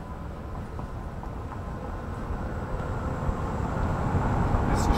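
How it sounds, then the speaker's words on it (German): Ford Mustang Mach-E electric car pulling away slowly, heard through a microphone held outside: a low, steady rumble of tyre and road noise that gradually swells as the car gains speed, with no engine sound. "Ich habe mal das Mikro hier und fahre mal langsam los und häng's mal raus."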